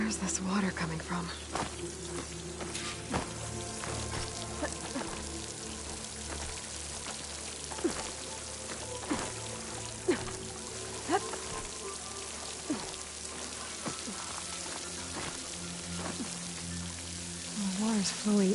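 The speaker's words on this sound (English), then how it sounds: "The water's flowing into the wall." Water in Horizon Forbidden West streams and patters against rock near a waterfall, a steady rain-like rush with scattered drips, while a voice talks over it.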